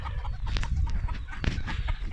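Chickens clucking close by, a busy run of short overlapping clucks and squawks.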